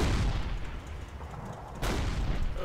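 Tank gunfire in the WWII wargame Combat Mission Red Thunder, with a T-34 in the fight: a steady wall of deep booming fire and rumbling explosions, then a fresh heavy blast near the end, all loud with no talk.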